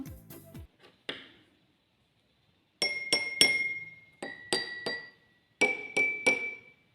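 Glasses holding equal amounts of water are tapped in three groups of ringing clinks, all at nearly the same pitch, after a brief clatter at the start and a silent pause.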